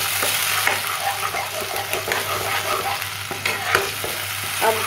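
Tomato masala paste frying in a pan for a stuffed baingan masala curry, a loud close sizzle with continuous stirring scrapes and spatula knocks.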